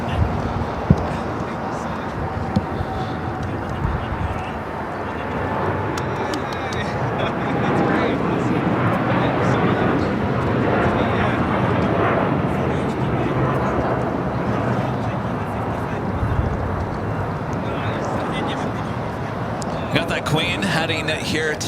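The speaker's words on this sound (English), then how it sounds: "787-9 Dreamliner, now rocking and rolling down 25 right." A Boeing 787-9 Dreamliner bound for Tokyo Narita taking off down runway 25 right at Los Angeles LAX, a broad jet roar building and holding at mid-distance while a person talks over it.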